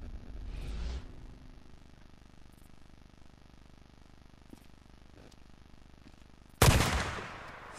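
A scoped rifle in Days Gone fires one loud, sharp shot near the end after a stretch of quiet ambience, with a dull thump early on.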